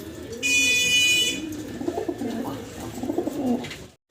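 Pigeons of fancy breeds cooing in a loft, soft repeated low coos close by, with a brief electronic beep near the start.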